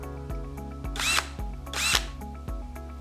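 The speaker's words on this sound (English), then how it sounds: "make sure that 4 screws are put into the wall" A power drill drives mounting screws into a wall for a digital canvas mount, its motor whirring in short pulses with two louder bursts of grinding bite as screws seat, close up and without talking.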